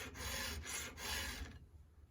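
A hand file sharpening the chain of a Stihl 355T chainsaw, three or four rasping strokes in a steady back-and-forth rhythm, close and clear, ending in quiet.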